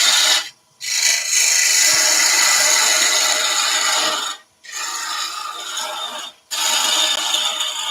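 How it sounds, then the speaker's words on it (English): Wood lathe cutting into a spinning timber blank while parting off, a steady loud scraping rasp in three long passes with brief pauses between them. "I just want to create a bit of room where I'm going to part off, get it down a little bit further now"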